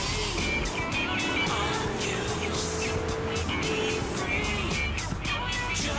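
A car driving through Liberty City in Grand Theft Auto 3, its engine droning steadily with road noise throughout, moderately quiet and uninterrupted.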